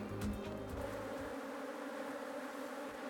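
Honeybees working over nearly finished honeycomb in a hive, a steady close droning buzz that fills the whole clip.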